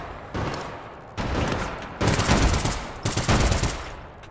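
Automatic gunfire in APB Reloaded rips out in four loud, close bursts of rapid shots separated by short pauses, growing heavier toward the end.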